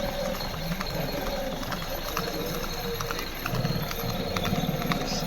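A runaway horse hauls a tonga cart along a highway in Raebareli, with a quick, steady clatter of hooves over a constant rumble of road traffic.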